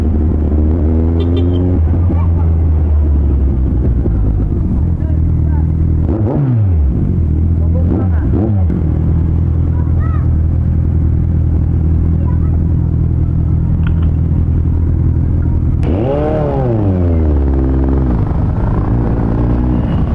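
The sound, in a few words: road traffic, cars passing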